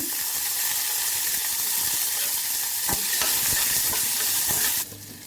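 Mustard seeds, urad dal, cumin, onion and curry leaves sizzle in hot oil for a pumpkin stir-fry, a dense constant hiss with a few sharp spatula scrapes before it quiets near the end.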